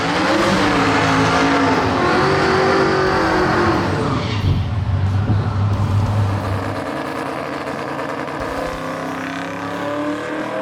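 A twin-turbo Ford Cortina street car with radial tyres revs loudly and close, a dense engine roar that holds strongly, then eases to a lower, steadier drone toward the end.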